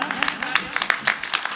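Audience applause at a poetry and bhajan recital, a brief patter of hand claps from a small crowd, moderately loud and layered beneath a man's speech.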